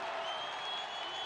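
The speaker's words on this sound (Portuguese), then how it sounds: "Torcedor faz festa e aplaude a chegada de Evair." Football crowd in a stadium applauding a substitute's arrival during a Goiás versus Corinthians match in 2000, a dense, distant wash of clapping and crowd noise with a faint steady tone running through it.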